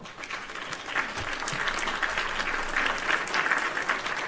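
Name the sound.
applause sound effect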